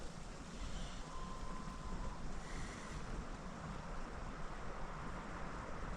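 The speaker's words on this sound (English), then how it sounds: "The wind has not quit all night." Strong wind buffets the microphone on a lake shore during a windy, misty morning on a canoe trip, a steady broadband roar with surf-like washing and no letup across the whole stretch.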